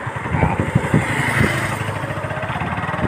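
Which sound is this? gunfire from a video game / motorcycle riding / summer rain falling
motorcycle riding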